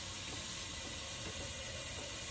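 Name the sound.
kitchen tap running water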